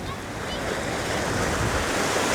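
Ocean surf rolls steadily onto a beach on Lanzarote, a broad continuous wash of breaking waves with some wind rumble, fairly close and unbroken throughout.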